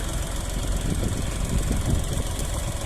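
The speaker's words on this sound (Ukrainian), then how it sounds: "трактор оре" A steady, loud engine drone with low rumbling and vibration from a tractor ploughing heavy soil nearby with a Wirax 2-18 plough, continuous with no talking.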